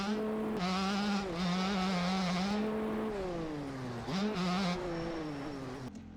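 A Yamaha 250 two-stroke dirt bike engine in MX Bikes drones and revs loudly and steadily, its pitch rising and falling with throttle changes and dipping briefly before picking back up, with no voices over it.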